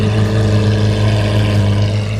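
A Lamborghini Huracan SV idles at a car meet, a loud, deep, steady engine rumble with rich low harmonics, close by and unbroken.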